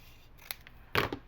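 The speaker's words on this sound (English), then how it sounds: "So I'm going to cut this straight on the top and the bottom" Scissors snip through paper being cut straight across for an envelope journal page, two short crisp cuts close by, the second louder and longer, over a quiet room.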